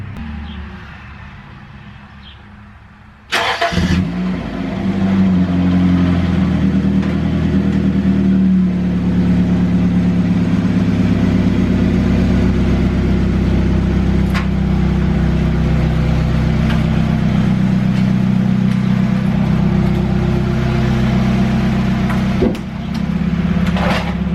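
A dirt track racecar engine starts up abruptly and runs loud and steady, rumbling and revving as the car is driven into a shop, with no talk over it.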